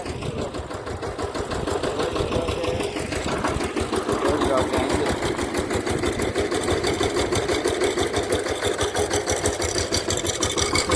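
A farm tractor engine running just after starting, a steady close chugging idle with a fast mechanical knock throughout.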